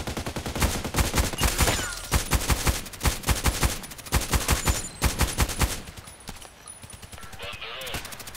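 An FN SCAR-L rifle in the game Contract Wars fires rapid bursts and strings of sharp shots, loud and close, in clustered rhythmic volleys that thin toward the end, with speech in between.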